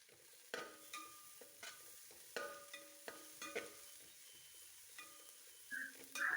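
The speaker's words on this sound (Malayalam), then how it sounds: "അതിനുശേഷം കറിവേപ്പില, പിന്നെ വെളുത്തുള്ളി, ഇഞ് ചി നന്നായിട്ട് ചതച്ചത്, ഇത്രയും സാധനങ്ങൾ ചേർത്തിട്ട് വഴറ്റിയെടുക്കണം." Curry leaves, crushed garlic and ginger sautéing in a pan with onion and green chilli for a tapioca biriyani, heard as soft intermittent spoon scrapes and stirs over a faint sizzle, close and fairly quiet, with no talk.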